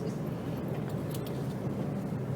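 A car drives along a rural country road on Dorn Ridge, heard from inside the cabin as a steady, even rumble of engine and tyre noise with no voices.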